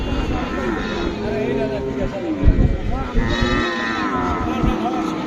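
Goats bleat among livestock at a busy Qurbani cattle market in Hazratpur, with lower animal calls mixed in and people talking nearby.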